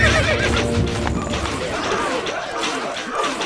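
A horse in the video game Stronghold Crusader whinnies loudly over rapid hoofbeats and clattering action noise, with muffled voices mixed in beneath.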